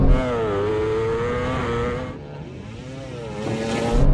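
A MotoGP bike and a KTM RC road bike launch off the line in a drag race, engines screaming loudly and rising in pitch through quick gear changes, with no voices.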